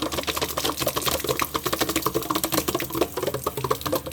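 Water runs from an opened frost-free hose bib outdoors, a steady, fairly close splashing hiss with a fluttering, uneven texture throughout and no talking.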